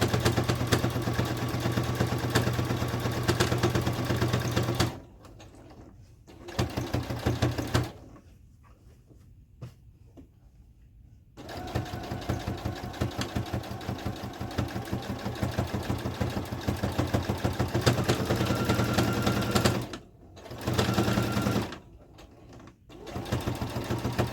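A sewing machine stitches a denim jacket in close, steady whirring bursts, stopping and starting with quiet pauses between runs.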